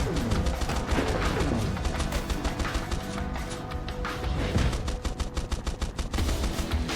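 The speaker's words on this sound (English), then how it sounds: "No, shoot the missiles at this guy!" Mech weapons fire in the video game Swarm Grinder, with dense rapid gunfire and missile blasts layered over busy game sound, continuous and loud throughout.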